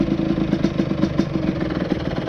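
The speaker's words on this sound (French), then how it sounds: "t'as l'impression qu'elle va caler au bruit, et non en fait elle tourne comme ça" A 50cc two-stroke Yamaha DT motorcycle with a Stage 6 kit idles unevenly, its close, loud engine firing in a lumpy, rapid rhythm that sounds almost ready to stall.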